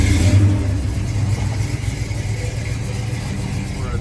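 A fire-damaged 1972 Buick Skylark GSX engine idles steadily while warming up, with a low, rumbling drone that runs continuously and fairly close, a slight rev at the start settling into an even hum.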